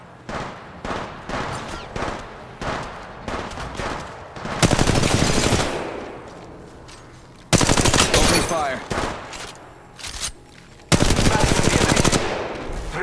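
Automatic weapon fire in Apex Legends Mobile battle royale gameplay, with bursts of rapid shots alternating with single spaced shots, loud and close, plus quieter gaps between volleys.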